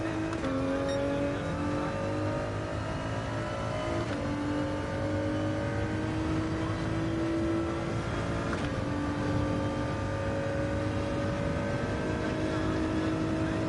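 A race car engine in Gran Turismo 7, sustained and loud, holding a steady high whine that slowly rises in pitch as it accelerates, with brief dips at gear changes, running alone without talk.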